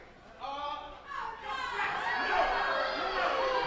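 Crowd at a wrestling event reacting, a murmuring, rising swell of many voices with cheers and shouts building toward the end, heard at a distance under a commentator's voice.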